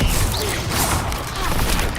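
Spell effects burst from a wand in Hogwarts Legacy during a fight with spiders, a dense wash of loud whooshing blasts and crackling fire with no pause between them.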